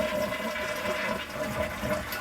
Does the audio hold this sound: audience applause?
no